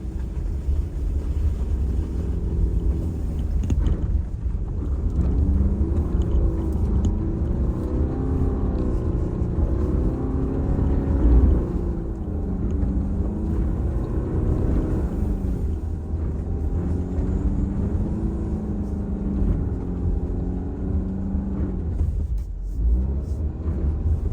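Car engine driving up a snow-covered mountain road, a steady low rumble that rises and falls as the throttle is pressed and released, continuous and fairly close for the whole stretch.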